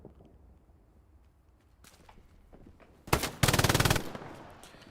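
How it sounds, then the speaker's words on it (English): An MG42 machine gun in a multiplayer war shooter game lets off one short burst, then a longer rapid rattling burst, loud and close after a quieter stretch of faint background noise. "Dumbass with the MG42."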